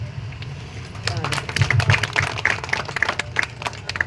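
An audience at a night-long devotional gathering in a Punjabi village claps in scattered bursts that thicken into a lively round, with a voice murmuring beneath the claps.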